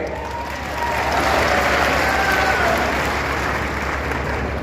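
Crowd at an Indian political election rally breaks into sustained applause, a dense wash of clapping that swells after a brief quieter start and holds steady, fairly loud and close.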